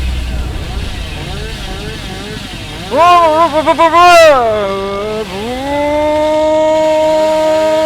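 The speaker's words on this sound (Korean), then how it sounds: "야 전기톱 만세" Chainsaw in the horror video game Dead by Daylight, revving up with a wavering, stuttering whine that peaks, drops briefly, then settles into a steady loud buzzing drone, over game ambience.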